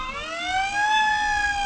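Fire department trucks pass during a Mexican Independence Day parade in Joliet, Illinois, a loud wailing siren rising and falling in a smooth sweep with a faint rumble of traffic beneath.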